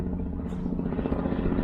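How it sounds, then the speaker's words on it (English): A helicopter flying overhead at Dunluce Castle, Northern Ireland, makes a continuous low, pulsing rotor drone that fills the whole stretch, loud and steady with a throbbing texture. "Sorry about the helicopter guys"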